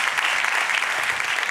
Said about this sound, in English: Please give a warm round of applause to our speaker, Sabrina Maniscalco